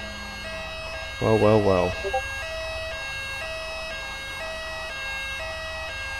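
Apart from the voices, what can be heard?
police car siren in video game GTA 5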